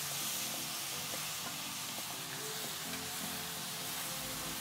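Pumpkin seeds are stirred into honey in a hot pan, giving a steady sizzling hiss with soft scraping stirs beneath it, constant and close with no voices.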